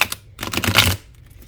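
A tarot deck is shuffled back in quick bursts, a rapid close riffle of crisp card flutters lasting about a second.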